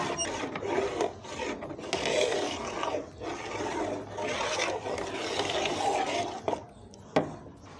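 A spoon scrapes and stirs thick gajar kheer in a pot in open air, with repeated rough rasping strokes in a slow, uneven rhythm, close and fairly loud.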